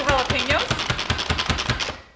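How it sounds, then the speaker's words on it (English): An onion is chopped in a hand-pulled manual food processor: a quick series of about a dozen rhythmic whirring, clattering pulses, close and fairly loud, with no talking over them. "I'm chopping up in our manual food processor just a little bit of onion, 1 onion and 2"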